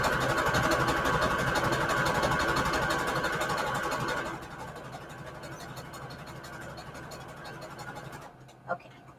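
A sewing machine stitches lace trim onto scrap fabric, a steady mechanical whirr that runs loud for about four seconds, then continues softer before stopping, with a brief click near the end.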